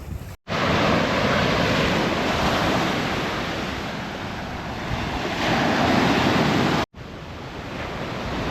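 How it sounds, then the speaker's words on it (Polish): Surf rolling onto Golden Beach on Koh Rong island, Cambodia: a loud, steady broadband wash of waves with wind buffeting the microphone, broken by two brief dropouts near the start and end. "Dotarliśmy na Golden Beach."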